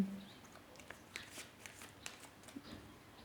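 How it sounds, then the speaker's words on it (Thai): Tarot cards shuffled by hand during a reading, giving soft repeated riffling and flicking bursts, fairly quiet and close, with no talking. "เดี๋ยวเปิดไพ่เพิ่มให้ไพ่อยากแนะนำว่าอะไร"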